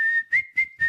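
A person whistles the Kill Bill hospital corridor tune in short, clear, high notes, three or four bright pulses in quick succession, close and alone.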